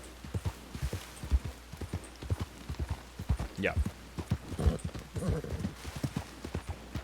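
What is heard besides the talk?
horse hooves clip-clopping in video game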